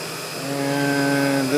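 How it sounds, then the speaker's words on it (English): Two Northern Lights generators running in the engine room of a 1974 92-foot Burger yacht, giving a steady tonal mechanical hum that swells louder and holds, heard up close. "going to get loud in here. 2 Northern Light generators."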